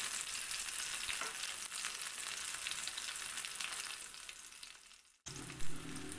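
Mushrooms fry in a pan with a continuous dense sizzle that fades toward the end. It breaks off abruptly, then resumes more quietly with a brief clatter.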